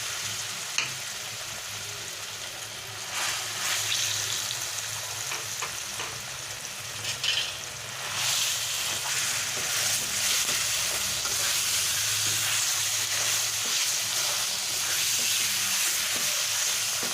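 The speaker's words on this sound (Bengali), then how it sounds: "এবারে আমি এর মধ্যে কদবেলটা দিয়ে দিলাম" Wood apple (kodbel) for a sweet, sour and spicy pickle is stirred and cooked in a pan, a continuous near sizzle with scraping stirs that grows louder and fuller about halfway through.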